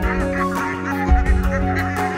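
A flock of domestic ducks calls close by, loud repeated honking quacks overlapping in quick bursts.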